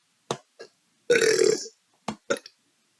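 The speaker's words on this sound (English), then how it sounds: "Excuse me, confirmation burp." A loud, drawn-out burp rises and fades between a few short, quiet vocal sounds and clicks.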